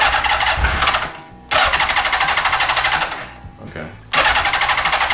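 Honda CB750 cafe racer project motorcycle, low on fuel, cranking and catching briefly twice, each burst of engine noise cut off abruptly; a voice speaks briefly.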